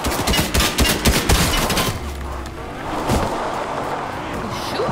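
Gunfire in a Fortnite duos match: a rapid volley of close, loud shots fills the first two seconds, then quieter scattered shots and game noise continue.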